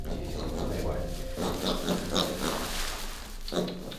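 A young wild boar piglet grunts in short, soft repeated bursts, close by, with a few brief higher squeaky notes in between.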